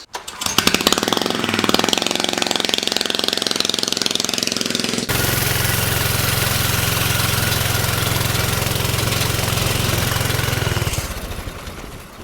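A small scrap go-kart engine runs loud and close, first a rough rattling idle, then a steady buzzing roar while the kart drives, easing off near the end.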